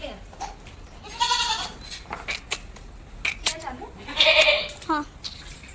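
A goat bleats loudly at close range twice, once near the start and again later, during hand milking in a farmyard setting, with some human voices and handling noises around it.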